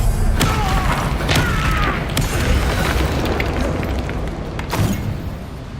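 Spell blasts such as Bombarda and Confringo firing in the video game Hogwarts Legacy, a run of loud booming impacts and bursts over a dense, rumbling background, with sharp cracks recurring across the stretch.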